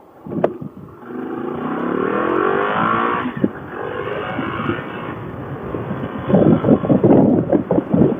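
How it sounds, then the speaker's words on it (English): A 2008 Can-Am Spyder Premier Edition roadster riding along a windy road, its engine droning steadily with rushing wind noise across the microphone, then rising into choppier, louder bursts near the end. "Let's take the 2008 Spyder Premier Edition out for a road test on the windy road."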